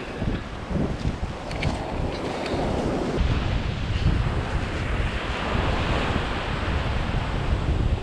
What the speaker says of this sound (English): One, we're gonna go in the ocean.